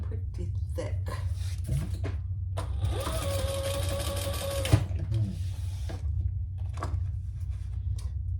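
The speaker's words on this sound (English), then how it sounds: "I'm just going to baste it in place" A sewing machine bastes a strap onto thick ostrich-pattern vinyl for a crossbody bag. It gives a close, steady mechanical chatter of stitching for about two seconds, surrounded by speech.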